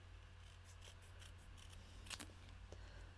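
Scissors snip through a stamped paper piece in a quiet room, a series of soft, close cuts with one sharper, louder snip near the end.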